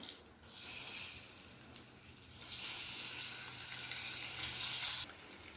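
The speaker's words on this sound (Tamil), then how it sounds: "முட்டை இப்படி போட்டாச்சுங்க திருப்பி போட்டுக்கலாம்" Halved boiled eggs sizzle in hot oil in a pan with pepper, a steady frying hiss that swells louder in the second half and cuts off abruptly near the end, with no talking.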